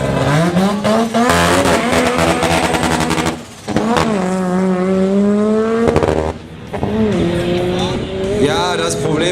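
A loud VW Golf race car roars past at a Bottrop racing event, engine revving up and down through gear changes with tire squeal, close and dominant throughout.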